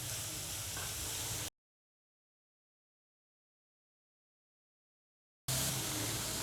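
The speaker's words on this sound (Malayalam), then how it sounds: "ഇനി ഇതിനകത്ത് നമ്മൾ അരിഞ്ഞ് വെച്ചേക്കുന്ന ക്യാരറ്റ് ഇട്ട് കൊടുക്കാം. അതും കൂടി ഒരു 2 മിനിറ്റ് ഒന്ന് വഴറ്റുക." Chopped carrots sautéing in a pan over a medium flame for Kerala-style carrot thoran, giving a steady close sizzle that cuts out completely for several seconds before returning just as loud.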